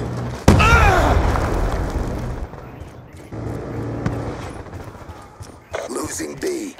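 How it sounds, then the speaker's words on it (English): In a video game, a grenade goes off with a sudden loud blast followed by a decaying rumble, then scattered thumps and gunfire-like bursts in a busy battle soundscape. "Throwing grenade!"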